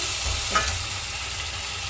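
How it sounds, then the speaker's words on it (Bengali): Spice paste frying in a pan while a vegetarian jackfruit curry is cooked, a steady soft sizzle with a brief stirring scrape, close and continuous, with no talking. "এই মশলাটা ভাজা হচ্ছে"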